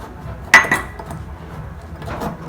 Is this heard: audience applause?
no